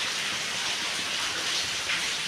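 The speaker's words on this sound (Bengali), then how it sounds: "তেলটা দিয়ে দিচ্ছি" Oil poured into a hot kadai for khichuri, egg and papad frying gives a steady, loud hiss of broadband sizzle with no break and no voices, resembling rain noise.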